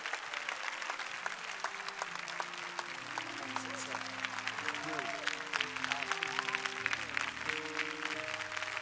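An audience at a Baptist church service applauds after a talk, sustained close clapping with sharp individual claps over held organ or keyboard chords, some voices mixed in.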